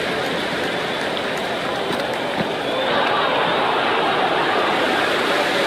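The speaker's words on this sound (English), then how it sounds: "It's evident and ever so audible that the crowd is at near bursting point at today's play." Dense, roaring crowd noise from a cheering cricket stadium in the video game Cricket 26, a steady loud wash that swells slightly partway through, heard under a commentator's voice.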